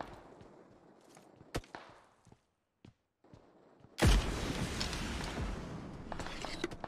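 A grenade goes off in PUBG Mobile in one sudden, loud blast, then a long rumbling roar with debris. Before it come quiet scattered clicks and a few sharp taps.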